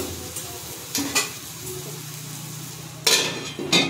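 A spoon stirring prawn khichuri in a pot over a low flame, soft scraping and sizzling with a few sharp metallic clinks of utensil against the pot, close and fairly quiet.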